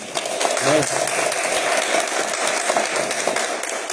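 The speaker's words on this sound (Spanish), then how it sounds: "Aplaudir a Cristo en esta mañana" A church congregation applauds at a morning vigil service, a steady wash of clapping that runs the full length with voices calling out over it.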